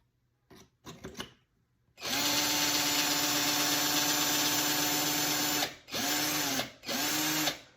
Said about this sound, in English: Then you just work your drill.